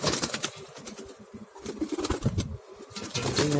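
Pigeons in a backyard loft coo in low, rolling bursts, close by, with occasional wing flaps and rustling among the birds.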